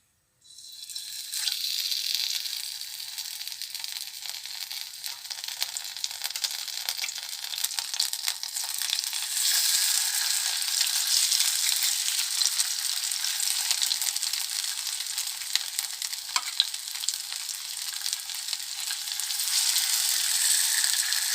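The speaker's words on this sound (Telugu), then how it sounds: "ఇప్పుడు ఆయిల్ వేడెక్కింది ఇప్పుడు ఒక్కొక్క చేపని వేసుకుందాం" Fish pieces for fish 65 frying in a small amount of hot oil, a steady bright crackling sizzle that builds after the first pieces go in and holds loud and continuous with occasional sharper pops.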